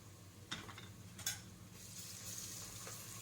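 Ginger garlic paste sizzles and fries in a pan, a faint steady crackle broken by two brief louder stirring scrapes near the start, with no talking.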